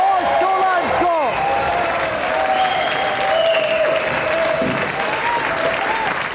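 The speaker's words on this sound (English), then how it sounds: "Round of applause, ladies and gentlemen, for our 3 planks" Game show studio audience applauding, a sustained dense burst of clapping with some cheering while a voice talks over it throughout.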